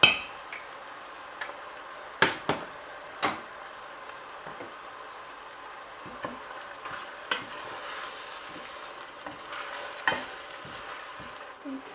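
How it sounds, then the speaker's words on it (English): Tomatoes sautéing in a pan for Portuguese seafood rice, a faint steady sizzle under scattered sharp clinks and taps of a utensil against the pan, close and quiet. "Tomatoes have been sauteing 6 minutes"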